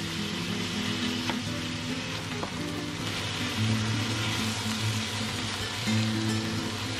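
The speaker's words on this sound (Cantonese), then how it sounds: "將啲雞丁擺落鑊，將佢煎封一下" Steady sizzling and crackling of chicken pieces frying in hot oil in a wok, continuous and close, with no talking.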